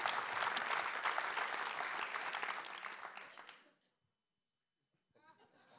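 An audience at a national congress claps in a dense, sustained burst for about four seconds, fading out into silence before a voice begins speaking.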